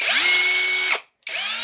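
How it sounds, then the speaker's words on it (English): A Bauer 20V cordless SDS-Plus rotary hammer in drill-only mode whirs up to a steady high whine, cuts out briefly, then spins up again, close and alone. "And this is just that drill mode"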